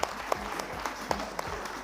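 Audience applause on a French-language TV variety show, greeting news that more than 1,200 school kits were collected; fairly soft, with steady rhythmic clapping pulsing in evenly spaced accents.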